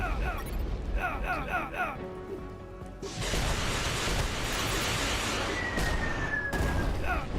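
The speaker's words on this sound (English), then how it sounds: "Oh, I threw that grenade the wrong way." Chaotic combat in the video game UnMetal: beeping game tones give way to a loud grenade explosion with rumbling blasts and a rising whoosh, a dense noisy fight mix throughout.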